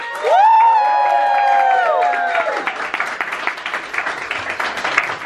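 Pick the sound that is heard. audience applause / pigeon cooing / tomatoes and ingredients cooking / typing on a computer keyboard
audience applause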